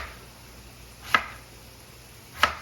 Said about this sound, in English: So now I'm gonna cut slices.